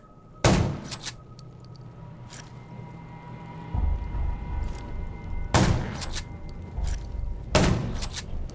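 Gunfire in the zombie survival game Undawn, three loud, sharp gunshot blasts spaced a few seconds apart, each with a brief rumbling tail, over a low continuous game ambience.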